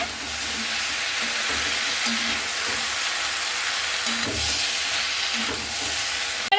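Malabar spinach stems and leaves being stirred in a hot pan give a steady broadband sizzle, with soft scraping bursts of stirring now and then, no voices.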